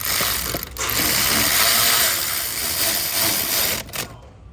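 A hand ratchet tightens a stud on a car in a workshop, with loud, rapid clicking strokes running almost continuously and a brief pause partway through.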